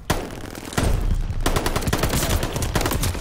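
MP40 submachine gun fire in Call of Duty Vanguard multiplayer, loud continuous automatic bursts with a brief pause near the start, close and dominant with no talk.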